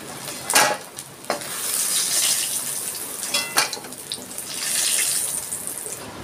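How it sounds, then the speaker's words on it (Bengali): Dry red chillies frying in hot oil in a pan, a close continuous sizzle with a few sharp crackling bursts and light stirring. "আমি 4টে শুকনো লঙ্কা ভেজে নিচ্ছি।"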